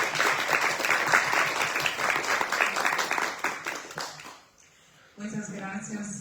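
A conference audience on music education gives a speaker warm applause, steady and fairly loud for about four seconds before dying away; a voice begins speaking afterward.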